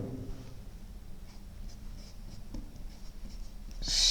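A pen scratching on paper while anatomy notes are written, a soft steady scribbling texture with faint strokes, quiet and close, and a brief louder scrape near the end.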